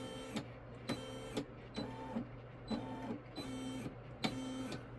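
A Brother SE725 embroidery machine stitches a heart design with a steady mechanical hum and regular rhythmic clacking bursts roughly every half second, close and continuous with no talk.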